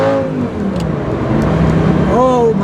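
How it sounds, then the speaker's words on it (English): A Ferrari Enzo's engine revs loudly in an underpass, the echoing roar rising and falling before a sharp climb in pitch near the end, with voices heard over it. "I love the sound of this car. It sounds so good."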